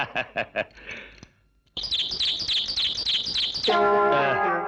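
A bird nesting indoors chirps in sharp, close, repeated calls, first in a few separate notes and then in a dense run, ending under a sustained ringing musical tone.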